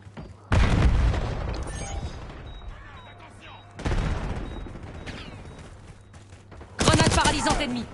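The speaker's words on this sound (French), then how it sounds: "Grenade paralysante ennemie." An enemy stun grenade goes off in a French-language shooter video game, three sharp blasts each followed by a decaying rumble, with faint game effects between them.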